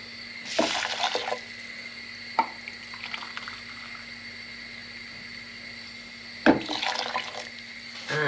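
Boiling water pours into a pot in two short bursts separated by a quiet pause, with faint drips and a steady background hum.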